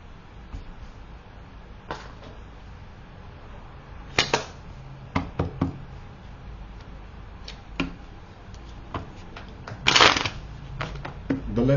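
A deck of playing cards being handled and shuffled up close: quick riffling bursts and sharp flicks and taps, scattered through a quiet background.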